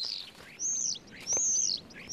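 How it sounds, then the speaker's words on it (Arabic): A common starling gives sharp, high, whistled calls to its mate in a spring orchard, repeated in several bright bursts over a soft outdoor background. "يصدر الزرزر صرخة حادة لشريكته"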